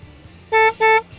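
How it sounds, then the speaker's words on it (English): Two short, loud car horn honks in quick succession, each about a quarter second, over faint road noise at a traffic light in America. "They will honk for every kind of situation."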